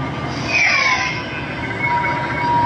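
A Star Wars Darksaber Legacy Lightsaber toy plays its electronic sound effects, a hissing, humming buzz with squealing pitch sweeps, moderately loud and close with no talking.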